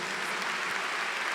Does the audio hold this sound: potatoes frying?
no